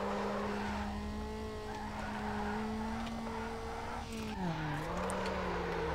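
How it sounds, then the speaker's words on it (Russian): Car drifting in the Need for Speed Underground racing game, with a steady engine drone and a long, loud tire squeal that bends in pitch as the slide changes, heard alone. "good drift"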